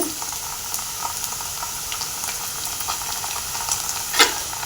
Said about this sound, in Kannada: ಇದನ್ನು ಆಯಿಲ್ ಚೆನ್ನಾಗಿ ಫ್ರೈ ಹಾಕಬೇಕು